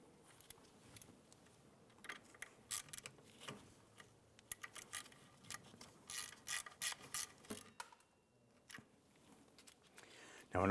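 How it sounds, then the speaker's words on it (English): A ratchet clicks in quick bursts while a Torx bolt is driven on a 1997-2006 Jeep Wrangler during a front brake hose replacement, close and fairly quiet, with short pauses between runs and a voice speaking at times. "let's go ahead and get the Torx bit bolt started into that"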